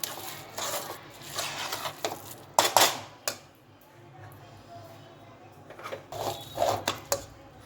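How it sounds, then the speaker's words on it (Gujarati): A spoon stirs spices and oil together in a metal pot or bowl for a dates pickle, making bursts of clinking and scraping separated by quiet gaps, close and moderately loud. "હવે મિક્સ કરીને આપણે પેળવી દઈશું"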